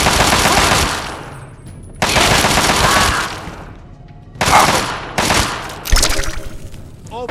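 In the wasteland of Fallout 3, a firefight brings loud bursts of automatic gunfire in several long volleys separated by short pauses, and the later bursts come as faster, choppier rattles.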